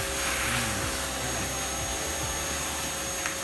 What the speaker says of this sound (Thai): ตัวนี้เป็นเครื่องดูดฝุ่นเจม่า30 ลิตร ตัวนี้เป่าก็ได้ดูดก็ได้นะครับ